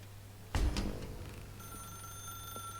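A telephone rings in The Stanley Parable: Ultra Deluxe, a sharp bell-like ring starting suddenly and decaying, followed by a sustained high electronic tone, heard alone without talk.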